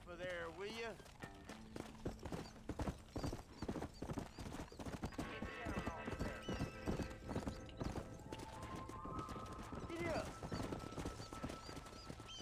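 Horse hooves clip-clop in the video game Red Dead Redemption, a fast rhythmic pattern of hoofbeats with an occasional whinny, under game music and someone talking.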